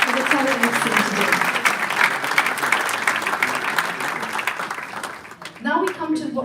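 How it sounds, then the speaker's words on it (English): An audience claps loudly and steadily at a ribbon cutting ceremony for a dining hall extension, dense applause that fades slightly toward the end as a voice begins to speak. "give them one more round of applause"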